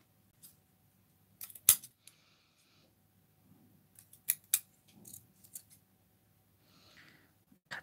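Scissors snip through doily trim cut from a lace circle: several sharp close clicks of the blades, one loud snip followed by scattered quieter cuts and handling noises, no voices.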